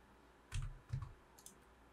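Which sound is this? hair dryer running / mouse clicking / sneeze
mouse clicking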